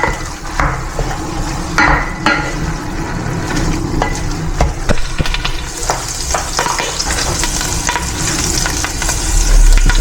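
Food frying in a pan until brown, a dense continuous sizzle with frequent scraping and stirring knocks, close and loud, building slightly brighter toward the end, no speech.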